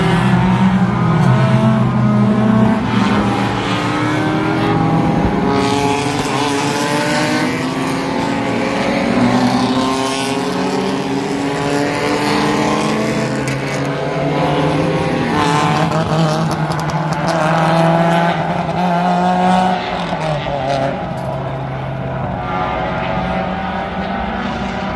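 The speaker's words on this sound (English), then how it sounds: "sounds like the Miatas are coming up over the hill here in just a second" Mazda Miata race cars come over a hill behind a pace car at Road Atlanta during historic sports car racing. Many engines drone together, loud and steady, their pitches sliding up and down as the pack nears.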